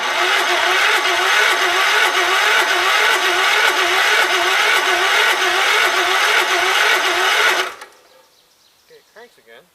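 A 1984 Gravely 5665 tractor engine cranking over without starting, a loud, steady, rhythmic churn of regular pulses lasting about eight seconds before it stops abruptly, followed by faint sounds.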